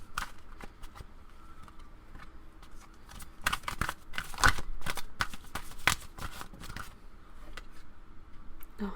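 Tarot cards are shuffled in quick, crisp bursts of riffling and tapping, close and fairly quiet, with brief pauses between flurries.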